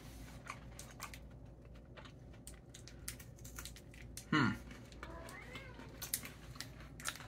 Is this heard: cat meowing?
yes